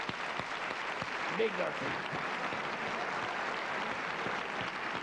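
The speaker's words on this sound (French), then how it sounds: "On l'applaudit, s'il vous plaît." An audience at a comedy stage show applauds, with a steady, moderately loud wash of clapping throughout while someone speaks briefly over it.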